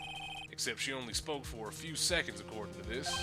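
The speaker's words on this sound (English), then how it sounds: "I heard a phone ring just now." A cell phone ringtone in the video game Phoenix Wright Ace Attorney, a steady electronic ringing beneath a voice and background music.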